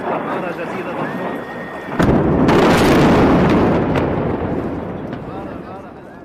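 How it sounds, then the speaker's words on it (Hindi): Bomb blasts during an Israeli air strike on Beirut: a sudden heavy rumbling boom that swells loud and broad, then slowly fades into a lingering roar, with faint voices around it. "इस वीडियो में बम के धमाकों की आवाज सुनाई दे रही है"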